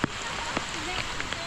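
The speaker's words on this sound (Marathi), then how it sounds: "पाऊस खूप जोरात पडतोय" Heavy rain pours in a dense, steady hiss during a fort trek, with a few louder drops or splashes standing out briefly.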